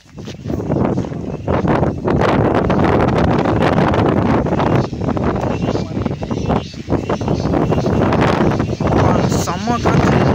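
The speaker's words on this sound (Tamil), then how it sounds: "செம்ம காற்று." Strong wind roars across the microphone at a mountain viewpoint at Ramakkalmedu, loud and buffeting throughout, with people talking under it.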